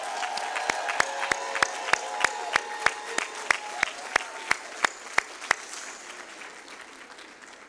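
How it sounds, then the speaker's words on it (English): A graduation audience at a Black graduation recognition ceremony claps and cheers, with sharp rhythmic loud claps standing out above the crowd before the applause thins out. "Let's give our class of 2022 another round of applause,"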